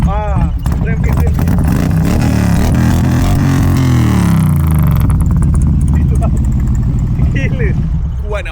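A stage 2 modified motorcycle exhaust revs loudly up close, its engine roaring and falling with pitch sweeps and sputtering crackles, people talking over it.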